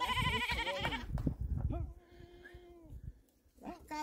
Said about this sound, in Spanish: Vamos a correr las cabras, che.